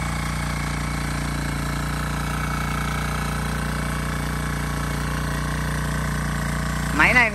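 Diesel rotary tiller with a 5.5 kW engine runs steadily in an open field, a constant loud droning chug that holds without pause, with a brief higher rattle near the end.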